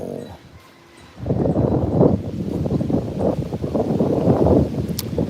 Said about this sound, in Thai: โอ้ยลมแรงมากเลย